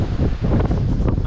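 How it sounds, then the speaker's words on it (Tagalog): Strong wind blasts outdoors under a tree, buffeting the microphone with a continuous loud rumbling roar and leafy rustle, close and steady with no voices. "Bagamat malakas ang hangin"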